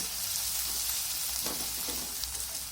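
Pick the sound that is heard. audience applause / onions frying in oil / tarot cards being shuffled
onions frying in oil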